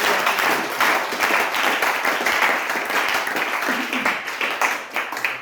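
Congregation applauding during a French-language church service, steady dense clapping from many hands throughout, fairly loud and sustained, with faint voices mixed underneath.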